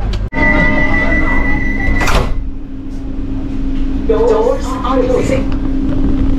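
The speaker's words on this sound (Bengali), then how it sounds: "দরজা বন্ধ হয়ে গেল, এবার ট্রেন ছেড়ে দেবে" Sliding door of a Vande Bharat Express train closing on the Varanasi to Prayagraj run, a near thump and rush followed by a steady hum, with people talking in the background.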